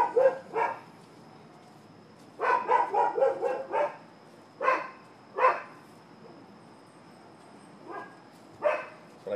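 Several dogs bark in repeated bursts, some single barks and some quick clustered runs, moderately close and loud against a quiet background in a neighborhood setting.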